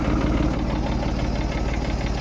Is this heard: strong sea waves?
no